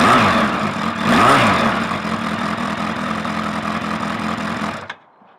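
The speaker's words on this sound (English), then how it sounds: "So the max torque can's still got the baffle in, and still sounds pretty fruity to me" A Suzuki Bandit motorcycle with a Max Torque exhaust can, baffle still fitted, idles close by and blips its throttle in a couple of quick revs before the engine cuts off abruptly.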